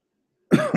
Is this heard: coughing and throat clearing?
yes